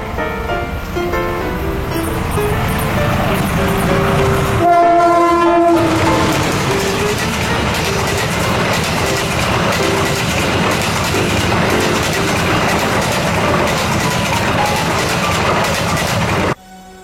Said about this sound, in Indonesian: saya bisa merekam lokomotif CC201-129 menarik rangkaian kereta Logawa Stainless Steel Next Generation